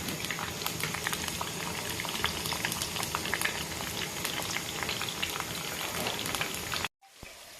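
Stuffed tinda (round gourd) cooks in a pan over a medium flame, a steady, busy bubbling sizzle that carries on evenly before cutting off abruptly near the end.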